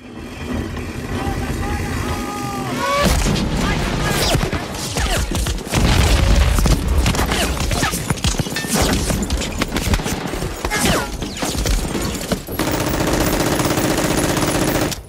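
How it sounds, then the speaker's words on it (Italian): Gunfire from the Normandy beach landing scene of Saving Private Ryan: dense machine-gun bursts, single shots and booming impacts come in loud, chaotic waves, with shouting voices mixed in. "nel film di Spielberg, Salvate il soldato Ryan, la prima scena, lo sbarco in Normandia, dove si sentono quei colpi in un modo allucinante"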